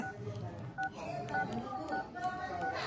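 Phone keypad tones beep in a short series of separate presses, faint and close, under a noisy room with background chatter.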